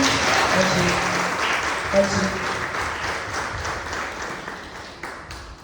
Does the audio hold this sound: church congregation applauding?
yes